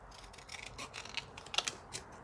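Scissors snip a paper doll at a crafting table, making a few quiet, close, crisp clicks and cuts in an irregular rhythm against a faint, still background.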